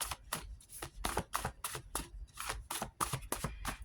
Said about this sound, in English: we're going to shuffle the wild cards and see if you get an answer